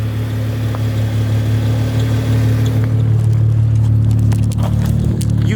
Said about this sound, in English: But I got a hamster wheel noise that comes out of here.